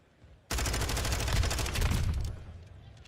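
Rapid automatic gunfire in Call of Duty Modern Warfare II, a wall bang spray through cover at a CDL Champs 2023 match, firing in a dense continuous burst for nearly two seconds, loud and close, then cutting off.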